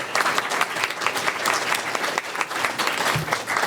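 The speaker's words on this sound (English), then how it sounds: "I just kind of want to give a round of applause to her and then all of you" An audience at a talk on gender-based violence and homelessness breaks into sustained applause, a dense, even wash of many hands clapping throughout, loud and close, with no talk over it.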